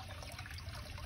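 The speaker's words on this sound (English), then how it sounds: "Got everything draining down into here." Water from a bucket hydroponic system drains into a barrel sunk in the ground, making a faint, continuous trickle and splash.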